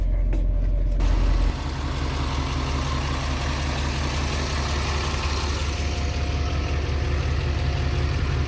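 A big diesel engine in a Chevy Caprice idles up close, a loud, steady low rumble that runs without a break throughout, with a brief heavier burst at the very start and no talking.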